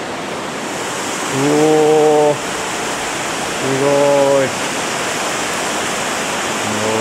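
Steady broadband roar of a waterfall and rushing river at Kiyotsu Gorge in Niigata, heard from a viewing platform; it continues without a break while a person exclaims briefly twice over it.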